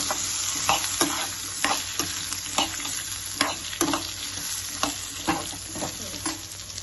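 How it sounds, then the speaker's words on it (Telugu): Tomato and coconut pieces frying in a pan, with a steady sizzle and regular stirring scrapes recurring about every half second, close and moderately loud, with no voices. "ఇప్పుడు కొబ్బరి ముక్కలు కూడా దీంట్లో వేసేస్తున్నాం. కొద్దిగా ఒక 2 మినిట్స్ వేయించేస్తే"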